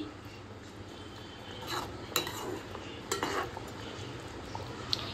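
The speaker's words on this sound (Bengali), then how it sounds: "বেগুনটা দিয়েও ভালোভাবে একটু নাড়িয়ে নিচ্ছি।" Fried eggplant pieces are stirred in a pan for begun tangra, giving soft scraping and a few sharp utensil clicks against the metal over a low steady background, with no talking.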